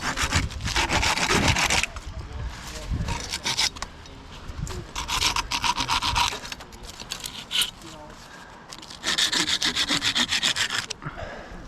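A handsaw cuts through wood in bursts of rapid, rasping back-and-forth strokes, loud and close, pausing between runs before starting again.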